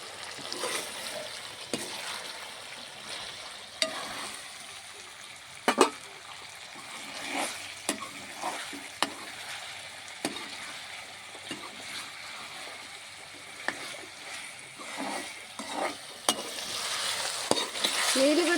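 Chicken frying in a pan, heard as a soft continuous sizzle with repeated scraping stirs of a spoon against the pan at irregular intervals, close and moderately quiet, with no talking.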